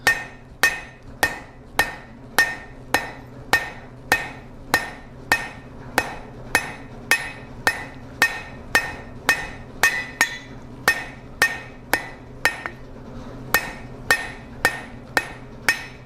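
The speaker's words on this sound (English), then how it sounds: "Hammer those smooth" A blacksmith hammers hot steel on an anvil to draw out an S hook, with steady ringing metallic strikes about once every 0.6 seconds, close and loud, each with a bright anvil ring.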